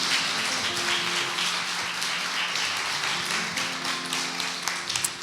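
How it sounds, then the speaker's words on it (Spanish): Church congregation clapping loudly and steadily for several seconds, a dense wash of hand claps with a held musical tone underneath. "¿Por qué no das un aplauso fuerte a Dios?"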